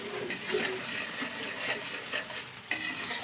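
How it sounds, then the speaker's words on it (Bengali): Spice paste, onion and tomato get stirred through hot oil for a rohu fish curry with potato and cauliflower: a soft continuous sizzle with scraping spatula strokes and a louder clink near the end, close and moderately quiet. "মশলা, পেঁয়াজ আর টমেটো আরেকটু ভালো করে নাড়াচাড়া করে নেব"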